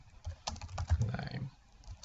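Quick keystrokes on a computer keyboard while a name is entered into a website contact form: a short, uneven burst of soft clicks, close and moderately loud, with no talking.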